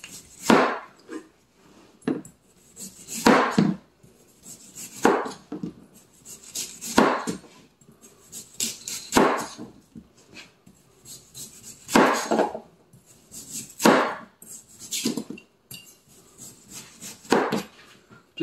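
A kitchen knife saws through a pink, not fully ripe melon in repeated back-and-forth strokes, producing intermittent close rasping and thudding cuts against the board at an uneven rhythm, with no speech.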